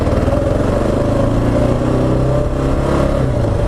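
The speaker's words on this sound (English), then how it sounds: "I'm going to take it to the little area, do a little loop where I can get up to 70 miles an hour" A 2015 Kawasaki KLR 650 single-cylinder motorcycle geared with a 16 tooth sprocket drones loud and steady while being ridden, with a constant engine note and wind, and no talk.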